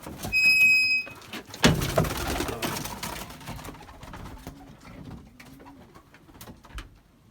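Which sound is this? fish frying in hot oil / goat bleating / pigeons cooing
pigeons cooing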